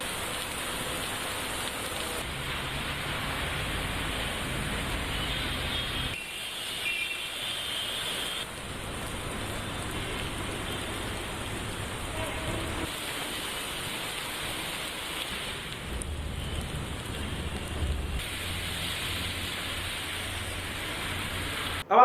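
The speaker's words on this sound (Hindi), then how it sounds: "बंबई में इस समय जो बारिश हो रही है" Heavy monsoon rain falls in Bombay as a steady, dense hiss of downpour with shifting intensity that continues throughout, with no voices over it.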